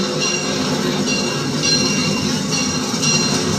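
A steady rumbling train ride nears the Boomtown Depot, with continuous rolling wheel noise and faint metallic squeals and rattles, no talk heard.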